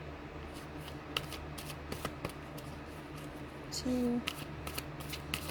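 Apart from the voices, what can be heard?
shuffling tarot cards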